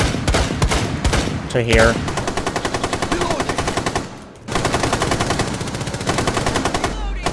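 Rapid automatic suppressing gunfire from a Rainbow Six Siege match, dense repeated bursts filling most of the stretch with a brief lull midway, loud and close, with a voice calling out briefly over it.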